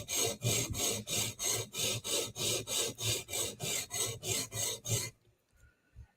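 Steady rhythmic rasping strokes of a sharpening stone being worked along a blade edge to reduce the burr, about a dozen even, close-up passes in a row before a brief quiet pause.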